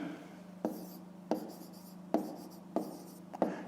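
A pen writes a maths solution by hand on paper, a soft continuous scratching broken by five evenly spaced sharper taps as strokes begin, close and quiet.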